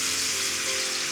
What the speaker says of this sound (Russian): И горячей водой заливаем